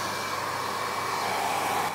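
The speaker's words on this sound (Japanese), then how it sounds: "次にドライヤーをやっていきます。" A hair dryer blows steadily on bangs held up at the roots with clips, a continuous, even, close whooshing roar with no talking.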